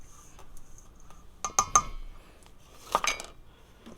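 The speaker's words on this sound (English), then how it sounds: "Just mix all those dry ingredients together." Dry biscuit ingredients of flour, baking powder and Dixie Crystals sugar being stirred in a bowl, quiet scraping broken by two clusters of sharp utensil clinks against the dish, close and without talk.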